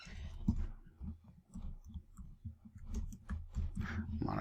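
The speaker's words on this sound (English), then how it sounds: "my keyboard is behind my microphone here" Quiet keys clatter on a computer keyboard placed behind a microphone, coming in irregular soft bursts of clicks with short pauses between them.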